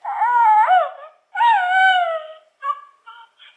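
A Baby Yoda animatronic toy from Star Wars makes electronic creature noises when its head is touched: two drawn-out, warbling whimpering cries followed by a few short chirps, clear and close with nothing else audible.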